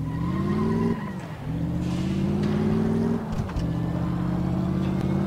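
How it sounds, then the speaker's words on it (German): A car engine in the racing game Car Mechanic Simulator 2015 drones steadily and loud, rising in pitch twice as it revs up, with brief dips between, and no voices over it. "dann können wir ja Gas geben"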